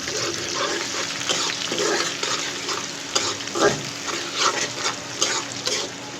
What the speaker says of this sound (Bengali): আর এখন দিয়ে দিচ্ছি পেঁয়াজ, একটু নরম নরম করে ভেজে নেব